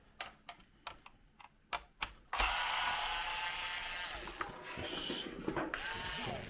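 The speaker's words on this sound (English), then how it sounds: "I'm just going to release some screws." Screws being removed from a Bruder toy tractor: sharp, evenly spaced ratcheting clicks from a driver, about eight close taps, then a louder continuous whirring mechanical noise with a few further clicks.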